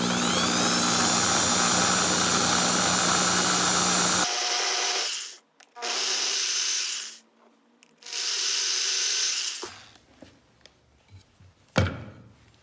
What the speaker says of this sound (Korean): 핸드 드릴을 살짝 켜서 구멍을 넓힐 겁니다